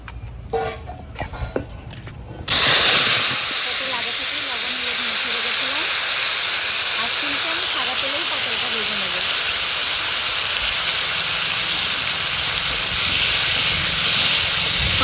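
Whole slit pointed gourds (potol) dropped into hot oil, a quiet start giving way to a sudden loud burst of hissing sizzle that stays strong and steady for the rest of the clip, close to the pan.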